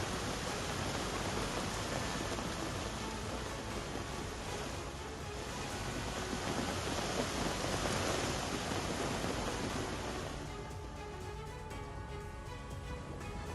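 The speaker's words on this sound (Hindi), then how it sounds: "जहां पर कई इलाकों में भारी बारिश" Heavy rain pours over Spain during flooding in residential areas, a dense, unbroken hiss mixed with wind-like rushing that swells slightly and then eases, with no voices.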